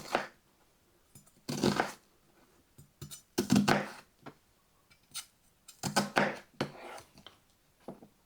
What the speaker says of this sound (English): I'm going to go ahead and chop up my vegetables to go in it